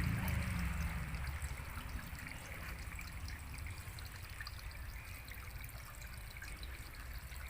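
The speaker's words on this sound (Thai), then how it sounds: "นี่ก็เป็นสภาพน้ำตกจำลองนะครับ นำมาไว้ที่หน้าบ้านนะครับ" Water trickles and splashes steadily in a small artificial garden waterfall in front of a house, a continuous close-up burble with no voices.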